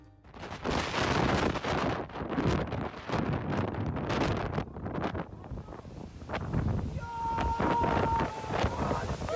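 Mediterranean storm Gloria striking the Mallorca shore with 71 mph winds and huge waves, loud gusting roar buffeting the microphone with repeated crashing surges, steady and close throughout.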